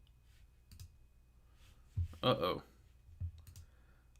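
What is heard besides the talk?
clicking things on a computer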